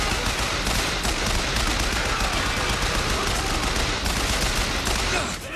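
The player's gun in Bioshock Infinite fires rapidly and continuously, a loud, dense machine-gun rattle sustained for over five seconds and cutting off at the end.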